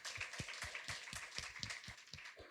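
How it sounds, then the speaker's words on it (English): An audience gives a round of applause, quiet and distant, with individual claps landing in a quick, fairly regular patter for a couple of seconds. "Give Seema a round of applause"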